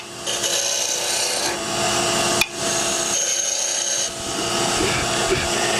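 Parting tool held against spinning wood spindles on a lathe, producing a steady, loud rasping scrape with a brief sharp tick partway through, close and continuous without talk.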